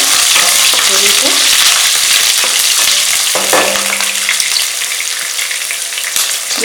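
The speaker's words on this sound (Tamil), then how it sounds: "பொரிச்ச உடனே கருவேப்பிலை போடுங்க, பூண்டு, அதுக்கப்புறம் பருப்பு எல்லாமே போட்டு பொரிட்டு" Curry leaves, garlic and dal sizzle loudly in hot oil as a tempering for sambar, with a continuous close crackle and occasional stirring scrapes, and no talk.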